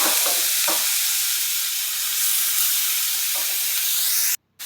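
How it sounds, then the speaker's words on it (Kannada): Grated carrot hits a hot pan for a sweet carrot dish and sets off a loud, steady, close-up sizzling hiss with faint stirring scrapes. The sound cuts off abruptly at the end. "ಈಗ ತುರಿದಿಟ್ಕೊಂಡ ಗಜರಿ ಇದ್ರಾಗನ ಹಾಕೊಳತ್ತೇನೆ"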